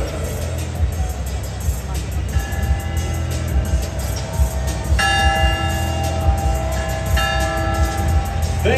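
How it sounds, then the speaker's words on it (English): A ceremonial mission bell rings at a San Diego Padres ballpark, struck several times with sharp, sustained metallic tones that hang over the loud ambient crowd murmur of the stadium. "mission bell."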